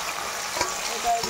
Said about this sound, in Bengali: এর মধ্যে এখন আমি দিয়ে দেবো, এই যে পেঁয়াজ, টমেটো, কাঁচা লঙ্কা কেটে রেখেছি